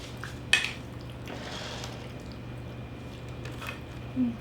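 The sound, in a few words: mixing sisig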